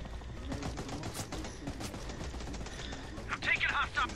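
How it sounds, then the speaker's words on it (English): Sustained enemy gunfire in Ghost Recon Breakpoint, with rapid bursts of overlapping shots at moderate distance and a few sharper cracks near the end, under ongoing talk. "Hostiles are shooting."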